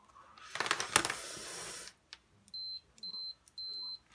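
A small handheld multimeter in continuity test mode gives several short, faint electronic beeps in quick succession, coming after a burst of rustling handling noise at a racing-drone workbench.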